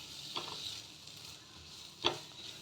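Ginger, bell pepper and crushed garlic sauté in a pan with a soft, steady sizzle, broken by two brief scraping stirs; no one speaks.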